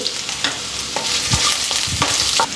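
Ginger, garlic and green chillies sauté in a pan with tempered mustard seeds and curry leaves for carrot pachadi. A loud, close sizzle is cut by rhythmic spatula scrapes and knocks about every half second.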